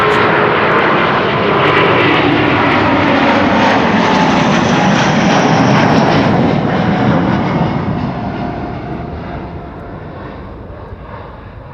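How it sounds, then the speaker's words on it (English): A Boeing 767 jet roars loud and close on the runway at Amsterdam Schiphol, a broad sustained engine rumble and whine that swells, then slowly eases across the whole stretch, with no voices. "a 767 is entering the runway and will be next for departure."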